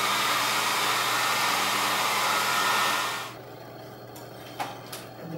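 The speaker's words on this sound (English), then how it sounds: "I can take the hairdryer for about 30 seconds" Hairdryer blowing steadily at close range to dry an oil paint glaze on an illustration, a loud continuous broadband whoosh for about three seconds before cutting off, leaving faint room noise and a few small clicks.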